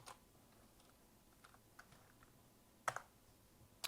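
Scattered keystrokes on a computer keyboard while writing website code, soft irregular taps with a couple of sharper, louder clicks near the end, over a quiet room hum.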